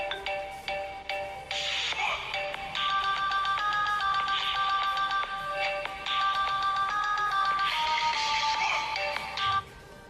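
A melodic iPhone ringtone from the iRingtones app plays loudly and alone, its bright repeating chime notes running steadily for the whole stretch with no talk over it.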